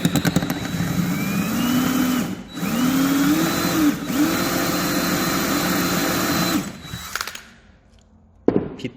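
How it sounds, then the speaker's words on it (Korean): Power drill boring a 3 mm pilot hole ahead of a left-hand tap used to remove a stripped screw, its steady whining motor running in two long bursts with a short stop between, close and loud, then falling quiet. "그래서 처음에는 드릴로 구멍을 냅니다."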